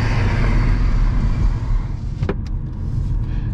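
Idling traffic on a jammed US road heard from inside a car: a steady low engine and road rumble throughout, with a brief mechanical whir or click near the middle.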